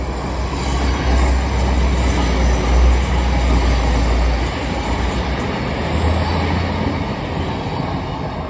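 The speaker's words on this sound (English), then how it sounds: "there's a train" A train rumbles past close by at Morley railway station, a steady heavy roar with low rolling vibration and faint wheel noise that eases slightly toward the end.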